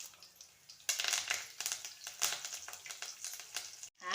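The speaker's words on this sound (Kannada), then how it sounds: "ಇವಾಗ ನಾನು ಸ್ವಲ್ಪ ಫ್ರೈ ಮಾಡ್ತೀನಿ." Mustard seeds, crushed garlic, dry red chillies and curry leaves fry in hot oil for drumstick rasam, starting with a sudden burst of crackling sizzle that keeps spitting and popping close by, then cuts off briefly near the end.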